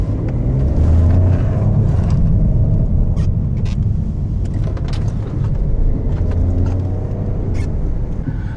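Car moving through light local traffic in a London borough on a rainy night, a steady loud engine and road rumble with tyre noise and occasional clicks from inside the vehicle, no talk.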